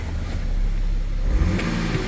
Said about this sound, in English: Let's see what happens when I rev it compared to before.